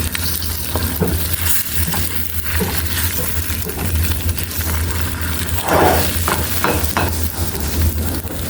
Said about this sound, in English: Eggs are on, we're gonna stir them up